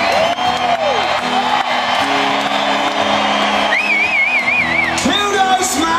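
A stadium crowd at a concert at Fenway Park roars steadily, with whoops, yells and rising, wavering shouts over a sustained wall of cheering.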